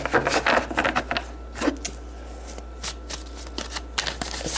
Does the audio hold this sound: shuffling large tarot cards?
yes